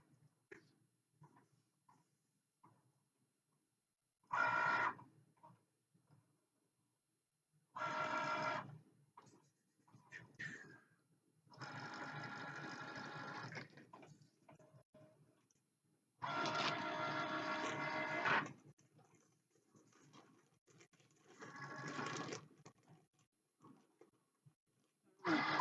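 Cricut cutting machine scanning registration marks, with bursts of mechanical whirring and buzzing lasting a few seconds each between quiet gaps and faint clicks, close and fairly loud.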